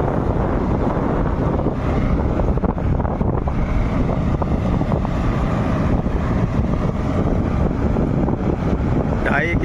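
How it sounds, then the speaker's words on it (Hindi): A Ford 3600 tractor drives along a road with a steady, loud, unbroken engine rumble, heavily buffeted by wind noise, with no talking throughout. "अब ट्रैक्टर को चलाएंगे स्टार्ट करके।"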